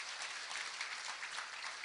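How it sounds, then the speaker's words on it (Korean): Applause at a Daegu citizens' roundtable discussion, a faint, steady wash of clapping from a seated crowd in a hall, heard alone. "관계자분들께도 수고하신다고 박수 한번 부탁드리겠습니다"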